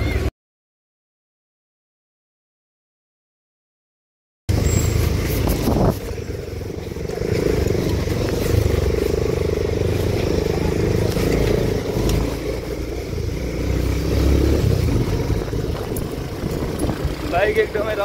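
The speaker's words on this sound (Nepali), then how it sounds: "बाइक एकदमै रफ्तारमा चाराचार भयो बाटो कति खराब हो" Motorcycle riding fast on a rough, badly broken road to Thawang in Nepal, with a continuous engine rumble, wind buffeting and jolting rattles over about 14 seconds after a silent opening gap.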